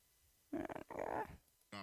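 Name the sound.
dog growling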